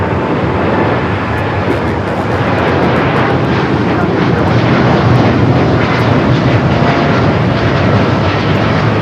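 A large airliner roars steadily at LAX, a continuous loud jet engine rumble with wind-like broadband noise that holds throughout, likely an airliner bound for Hong Kong taking off or taxiing.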